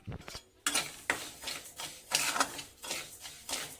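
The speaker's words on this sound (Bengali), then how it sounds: "এই মুগ ডালটা আমি একটা কড়াইতে ভেজে নেব শুকনো খোলায়" Moong dal dry-roasted in a kadai, stirred with a spatula: a series of repeated dry scraping and rattling strokes in a steady rhythm, close and moderately loud, with no talking.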